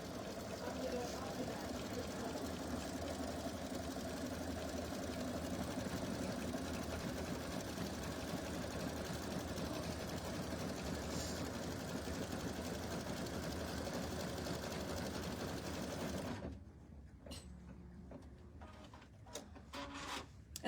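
An embroidery sewing machine runs steadily for about sixteen seconds, stitching a mug rug held in the hoop, then stops, leaving a quieter room with a few soft clicks and handling noises.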